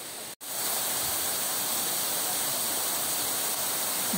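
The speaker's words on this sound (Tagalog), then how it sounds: "Batlag Falls." Batlag Falls pours in a steady, dense roar of rushing water, close and loud, continuous after a brief cut near the start.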